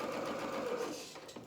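A sewing machine stitching the front seam of a dress, a quick, steady mechanical whirr running close and clear for about a second and a half before slowing.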